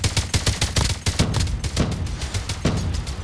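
Rapid bursts of gunfire in the mobile shooter game Call of Duty Mobile, loud and dense shots fired in quick succession with short pauses, no talking.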